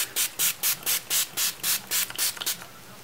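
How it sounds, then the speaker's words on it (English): Rapid bursts of a spray bottle misting yellow ink onto ribbon, about a dozen short hissing pumps in a steady rhythm, close and fairly loud, with no talking. "the last thing we're going to do is spray some more yellow on here"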